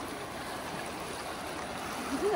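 Fast river water rushes beside a riverside resort near Siliguri, a steady broadband roar with no clear breaks, fairly close, and a faint voice-like murmur at the very end.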